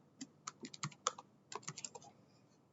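Quiet, close keystrokes on a computer keyboard as a name is typed, irregular bursts of clicks in two quick runs separated by a short pause, with no voice over them.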